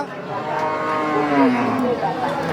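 A large Red Friesian dairy cow at a busy cattle market lets out a long, loud, close moo lasting a couple of seconds.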